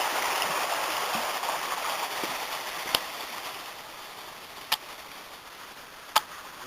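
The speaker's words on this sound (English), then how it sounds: "There's a footbridge over a tumbling stream feeding the lake." A tumbling stream runs beneath a footbridge where it feeds a lake, giving a steady, fairly quiet broadband rush throughout, with three sharp, isolated clicks partway through.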